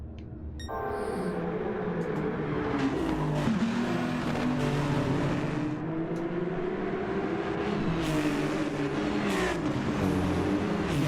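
Race cars lapping the Nurburgring Nordschleife in a racing video game, with engines droning and shifting pitch, tires squealing and cars passing, all at a steady loud level.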